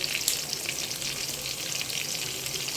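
Cardamom pods and cinnamon sticks fry in hot oil for a home chicken curry, giving a steady, dense sizzle with light scraping of stirring throughout, close and even, no voices.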